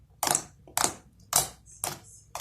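Clicks from a glittery slime toy being squeezed come in a steady series of five sharp, evenly spaced snaps, fairly quiet and close, with no talking.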